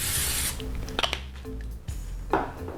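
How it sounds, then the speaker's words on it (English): Nonstick cooking spray hisses from a can onto small lasagna pans in a kitchen, one brief spray burst opening and another near the end, with light clatter and scraping of the pans in between. "Spray your pans with some nonstick spray"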